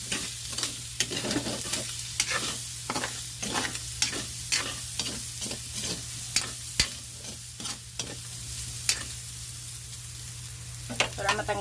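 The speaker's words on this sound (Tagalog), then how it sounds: "Pinapa-crispy ko muna yung sahog niya." Pork cubes fry in oil until crispy, a steady sizzle under a low hum, broken by repeated sharp scraping stirs at an irregular rhythm, close and fairly loud throughout.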